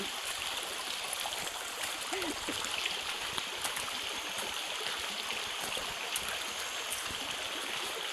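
A shallow creek flows and burbles over rocks in a steady, continuous wash of water, fairly close, with no pauses and no talk.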